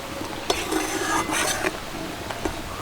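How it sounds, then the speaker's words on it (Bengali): Mango pickle being stirred with salt in a pan, giving a scraping, clinking stir with a spoon against metal and soft sizzling in between, close and fairly quiet. "এর মধ্যে দিয়ে দেবো স্বাদ মতো নুন। ভালো করে মিশিয়ে নেব।"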